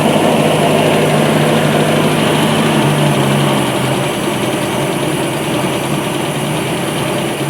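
A Nissan C22 Vanette engine idles loudly and continuously up close, with a steady rumble; the engine has a hesitating misfire and a weak ignition spark.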